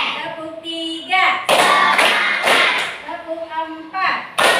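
A teacher leads a classroom in a counted clapping game: her voice calls out between bursts of children clapping together, several sharp group claps landing in a loose rhythm, loud and close.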